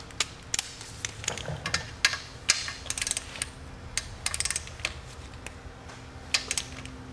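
A click-type torque wrench ratchets through the final torque on the timing belt components of an Audi B5/C5 2.7T or 2.8L engine, giving rapid close metallic ratchet clicks in uneven bursts with no speech.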